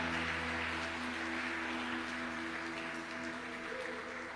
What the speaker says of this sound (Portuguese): Aplauda o Santo de Israel.